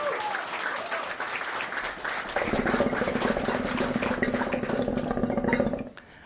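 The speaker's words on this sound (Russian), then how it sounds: "Вы слышите звук кальяна" Continuous bubbling and gurgling from a hookah, a dense watery rumble that grows fuller midway and runs steadily before fading out.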